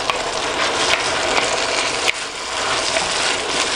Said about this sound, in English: Then give it a good stir.